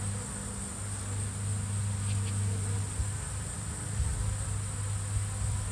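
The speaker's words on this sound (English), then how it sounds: "these bees are going in and out, no problem now." Honey bees buzz at the entrance of a five-frame nuc hive, a steady droning hum close by with a constant background whine and no voices.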